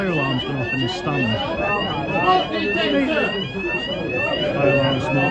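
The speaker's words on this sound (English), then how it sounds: "So for some reason the fire alarm's gone off in the stand." In a football stadium stand, a fire alarm sounds continuously with repeating rising electronic tones, loud and steady, while crowd chatter and a voice carry underneath.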